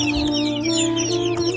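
Several farm chickens, some with swollen, ailing eyes, cluck and chirp nearby in short, overlapping calls over a steady low background hum.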